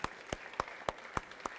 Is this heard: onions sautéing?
no